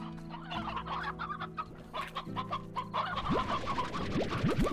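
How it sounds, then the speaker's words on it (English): Hens cluck repeatedly in the video game Slime Rancher, a dense run of close, loud clucks and short squawks over steady in-game tones and a few rising electronic blips. "Hens and stony hens, come here."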